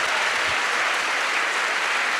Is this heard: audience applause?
yes